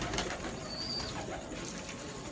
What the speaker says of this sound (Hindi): कबूतर आप देख सकते हैं जी, माशाल्लाह कबूतर बहुत अच्छे हैं